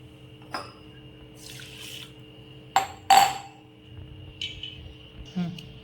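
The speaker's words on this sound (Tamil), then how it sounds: "இப்போ இதை நல்லா தண்ணி ஊற்றி கழுவிக்கணும்" Raw rice being washed in a pot with poured water, with splashing, clinks of grains and utensil against the vessel, and bursts of running water heard close over a faint steady hum.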